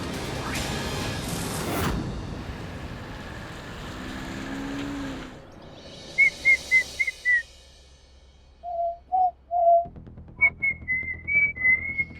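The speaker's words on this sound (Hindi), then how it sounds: "कहाँ से आ रहे हो सीटी बजाते हुए?" A person whistles a short tune in a series of bright trilling phrases, heard alone after a noisy passage, clear and fairly close with brief pauses between the notes.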